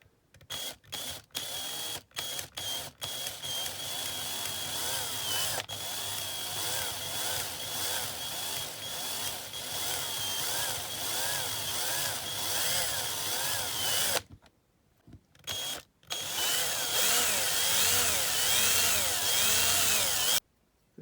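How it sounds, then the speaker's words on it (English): A small power drill bores out the posts of a Corgi Citroen 2CV diecast model. It starts with several short bursts, then runs in a long, steady whine, stops briefly, and revs again near the end. "we're just going to drill the posts out."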